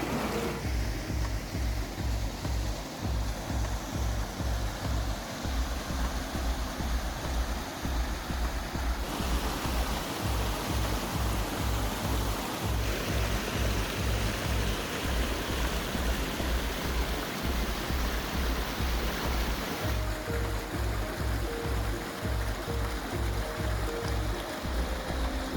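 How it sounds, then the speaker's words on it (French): A small, shallow river near Châteaudouble spills over little waterfalls, giving a steady, full rushing and splashing that carries on without pause, close by. "Là, je vous laisse apprécier le son de l'eau."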